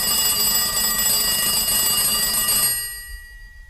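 A telephone rings after an airport number is dialled, giving a steady bright electronic ringing tone that holds loud for nearly three seconds and then stops abruptly.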